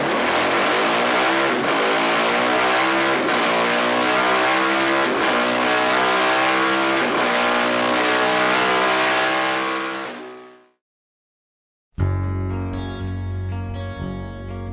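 A motorcycle engine revs hard and steadily climbs through its rev range, checked for fueling problems, loud and close, then cuts out abruptly; after a brief silence a lower idle-like rumble resumes.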